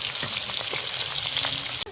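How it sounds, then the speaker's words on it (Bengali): Steady, dense sizzling and crackling of hilsa fish frying in hot oil, close and continuous with no voices. "লাল লাল করে ভাজা হয়েছে মাছগুলো"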